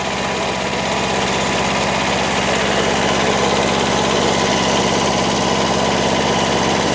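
A Kubota tractor engine runs steadily in a potato field during harvest, a loud, continuous diesel drone with a constant rhythmic chug throughout, close by and with no talking.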